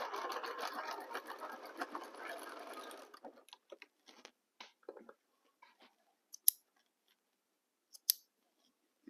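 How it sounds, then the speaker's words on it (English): A sewing machine stitches fabric in a dense buzzing run for about three seconds, then stops, followed by scattered clicks and small handling taps with two sharper snaps near the end. "I reorganize my fabric here and here and continue sewing"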